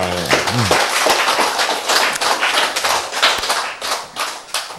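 Audience applause in a church sermon setting, with dense, continuous clapping from a crowd filling the whole stretch, loud and near, with a brief vocal sound at the start.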